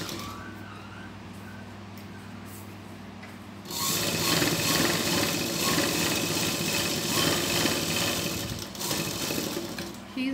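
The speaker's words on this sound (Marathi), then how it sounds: "त्यानंतर यावरती प्रेस सिलाई घ्यायची आहे." A sewing machine runs a press stitch along a folded strip on a Katori blouse, starting abruptly partway through and then whirring loudly and steadily to the end, close and with no talking.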